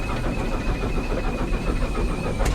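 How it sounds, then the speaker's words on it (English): A small LMS 1F steam locomotive works a heritage line on a Santa Special, heard as a steady heavy rumbling drone with a faint continuous whistle-like tone above it and a brief sharp hiss near the end. "the engine we got today is a little 1F locomotive from the LMS"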